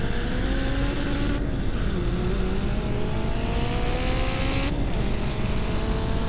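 A turbocharged Honda S2000 engine holds on 2-step launch control, a loud, close, continuous engine roar whose pitch wavers and shifts slightly throughout.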